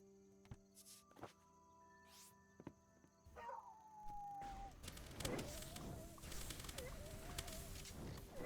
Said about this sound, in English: That it whines like a dog is just concerning.